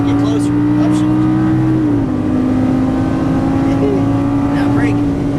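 A Lamborghini Gallardo engine drones steadily on a racetrack, its pitch holding then dipping slightly as throttle comes back in, with a driving instructor talking over it.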